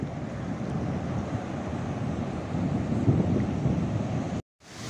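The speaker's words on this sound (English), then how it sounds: "Oh, that wind, I'm gonna be blown over." Strong wind buffeting the microphone over crashing surf on Karnataka's southern coast after Cyclone Tauktae, a loud continuous roar that briefly cuts out near the end.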